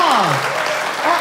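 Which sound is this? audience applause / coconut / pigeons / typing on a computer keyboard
audience applause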